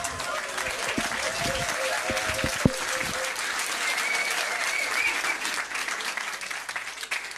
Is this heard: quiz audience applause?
yes